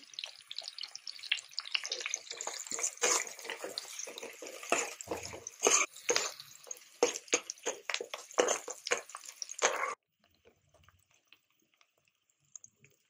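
Onion pieces frying in oil at the start of a mutton potato curry give a busy, crackling sizzle with sharp bursts for about ten seconds, then cut to near silence with a few faint ticks.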